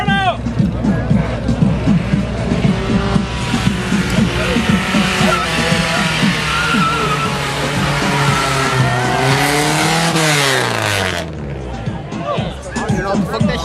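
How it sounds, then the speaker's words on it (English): A car at a large car meet does a loud burnout, engine roaring and tires screeching continuously for about eleven seconds before the revs drop, with a crowd shouting and cheering over it. "Do the burnout!"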